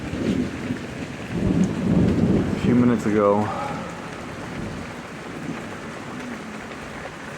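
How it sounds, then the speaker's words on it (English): Steady rain falls outside while thunder rolls low and long, and someone talks over the storm noise nearby. "chased up in the yard by the rain"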